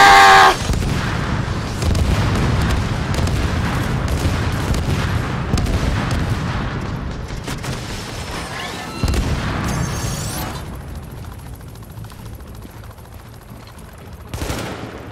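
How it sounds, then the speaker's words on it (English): Sustained automatic turret fire in a shooter video game during a boss fight against Colonel Bliss, dense rapid bursts with booming impacts running loud and continuous for most of the stretch, easing into quieter fire toward the end. "I need to activate this turret."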